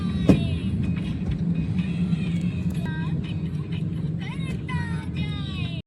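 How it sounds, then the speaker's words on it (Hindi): Dense city traffic in Nagpur rumbles continuously, with engine drone, passing vehicles and several horn toots layered through it, while someone speaks over the noise. "सिटी में बहुत ट्रैफिक है।"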